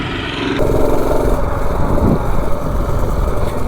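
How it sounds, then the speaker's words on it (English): A Predator 212 small single-cylinder engine with advanced ignition timing idles at a raised speed: a steady, loud, close-up chugging drone with a slight change in tone partway through and no talking. "So with that extra timing, we got a little bit higher idle"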